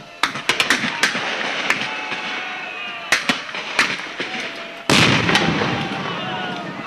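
Cannon fire in a historical reenactment of the Acre conflict in Amazonia, heard as a series of sharp booming blasts, some in quick clusters and a heavier one late, over a steady noisy crowd background.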